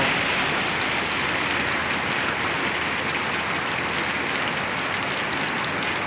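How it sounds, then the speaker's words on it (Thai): Heavy rain from Typhoon Noru, with strong wind, pours in a steady, dense roar, loud and unbroken throughout with no voices. "ตอนนี้ทั้งลมทั้งฝนนะครับ สาดเข้ามาในบ้านเปียกหมดเลยพี่น้อง"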